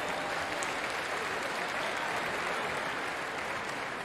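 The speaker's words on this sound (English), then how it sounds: "Round of applause." Large outdoor concert crowd at the Sidney Myer Music Bowl in Melbourne applauding after an orchestra performance, a dense, steady wash of clapping that holds evenly throughout.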